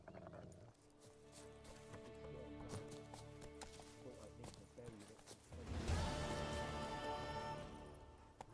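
Roach the horse gallops in The Witcher 3 with quick hoofbeats over a game music bed, the running growing fuller and louder toward the end.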